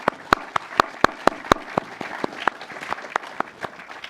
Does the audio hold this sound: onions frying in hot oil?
no